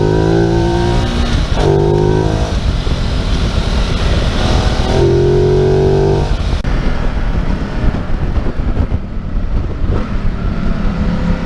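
A Ducati Multistrada 950 2017 motorcycle engine roars loudly up close, revving in rising bursts with gear changes and heavy wind rush throughout.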